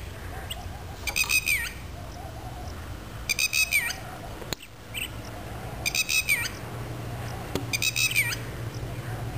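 A bird calls near a pond in the Aravalli hills, four short squawking bursts repeated at a steady interval, fairly close over quiet outdoor background.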